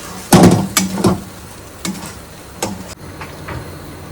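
Ridge gourd frying in a pan, with several loud scraping stirs and clatters over a soft sizzle, the stirring coming in irregular bursts before the pan quiets.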